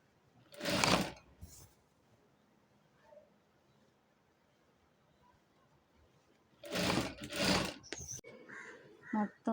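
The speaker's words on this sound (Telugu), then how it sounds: "మొత్తం ఫ్రిల్స్ పెట్టి ఇలా స్టిచ్ చేసుకోవాలి." A sewing machine stitching frills onto a long skirt, running in two short bursts, one near the start and a longer one near the end, loud and close with quiet gaps between.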